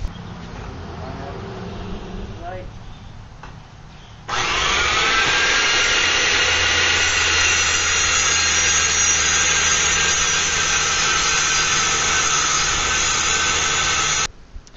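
A power saw cuts wooden boards in half, starting with a quieter lead-in of handling noise before the blade bites and a loud, steady high whine runs for about ten seconds, then cuts off abruptly.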